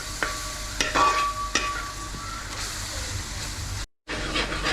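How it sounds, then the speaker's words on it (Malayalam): Chili masala with black pepper stirred in a frying pan for paneer matar masala: sizzling underlies several sharp scrapes and knocks of a spoon, then a brief cut to silence before the frying resumes. "മുളക് മസാലയുടെയൊക്കെ പച്ചമണം മാറാൻ വേണ്ടി നന്നായിട്ടൊന്ന് ഇളക്കി കൊടുക്കുക"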